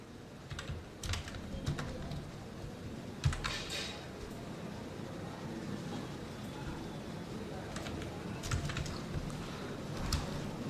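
Someone types the name Alam on a computer keyboard, producing close, crisp clusters of key clicks in short bursts separated by pauses, with a quiet room background.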